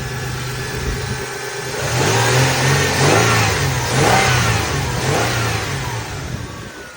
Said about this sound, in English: And we'll show you the engine.